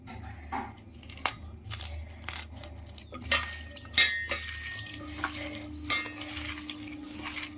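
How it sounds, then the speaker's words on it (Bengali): Chopped vegetables are mixed by hand in a metal bowl with onion, tomato, turmeric, salt and chili, giving soft squelching and rustling with intermittent clinks and scrapes against the bowl, close up and with no talking. "এখানে পেঁয়াজ, টমেটো, হলুদ, নুন, লঙ্কা দিয়ে মাখিয়ে নেব।"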